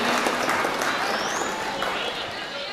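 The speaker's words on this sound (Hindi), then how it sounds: "आ चुके हैं रियाज सागर साहब के लिए, तालियां बजाइए, पुरजोर तालियां होनी चाहिए।" Audience applause at a mushaira poetry gathering in a nagar panchayat hall, welcoming a guest to the stage; dense, steady clapping from a crowd fills the whole stretch, with some voices mixed in.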